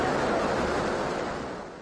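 Heavy surf from a typhoon on the Philippine coast, with tall waves crashing and strong wind, forms a dense, steady roar that fades slightly toward the end, with no voices.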